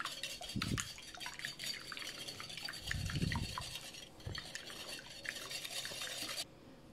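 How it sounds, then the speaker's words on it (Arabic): A utensil beats an egg with vanilla sugar rapidly against a bowl in a steady clattering rhythm, with a few heavier knocks, close by and fairly loud. "كنطرب مزيان"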